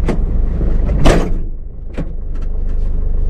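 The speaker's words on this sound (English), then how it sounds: "Shut the door." A door on a work vehicle shuts with a single loud thud and rattle, followed by a few fainter knocks over a steady engine hum, close by and with no talk.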